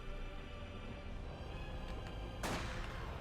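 A single sharp sniper rifle shot cracks out in a World War II strategy video game, rising briefly over a steady bed of battlefield ambience and distant rumbling.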